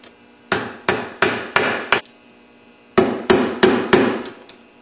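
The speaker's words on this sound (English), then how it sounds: "Okay, impact gun." A pneumatic impact gun spins off the lock washer on a Yamaha YFZ engine during a crank install, firing nine sharp rattling bursts close by, five in quick succession, a brief pause, then four more.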